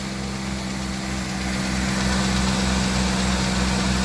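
A repaired Ford Econoline van engine idles steadily up close, a continuous low rumble and vibration that holds even and unbroken for a few seconds.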